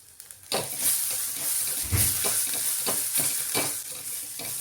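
Asafoetida and turmeric sizzle in hot oil with a spice paste for a Nashik-style kat vada rassa, a steady close frying hiss broken by repeated stirring scrapes, with no talk.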